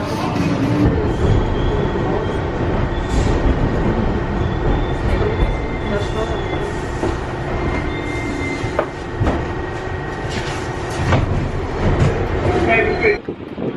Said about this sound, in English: then we get the subway and we take off.